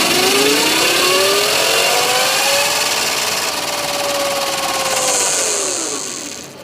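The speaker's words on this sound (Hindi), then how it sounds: "मैकेनिकल साउंड है, आप रियल साउंड को फील कर सकते हैं कि स्पोर्ट बाइक में जो आता है।" Orka Green electric racing bike motor producing a synthetic sport-bike engine sound, a continuous whining drone that rises and falls in pitch as if revving, loud and close with no talking.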